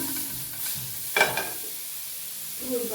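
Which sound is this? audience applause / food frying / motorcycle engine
food frying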